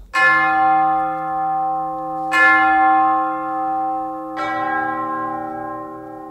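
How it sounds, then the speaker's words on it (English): Three deep, resonant orchestral funeral bell strikes from Berlioz's Symphonie Fantastique ring out slowly, each chime sustaining and fading before the next, with rich lingering overtones. "Then there are spine chilling funeral bells."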